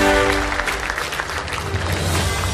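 Brief applause from a party convention audience welcoming a city mayor, steady dense clapping over a music bed for a couple of seconds.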